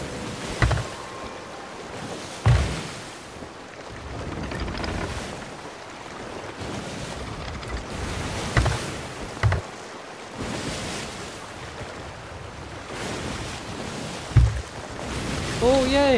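Ocean waves rolling and washing ashore in a pirate video game, a steady surf wash with periodic louder thumps and swells, accompanied by wind noise.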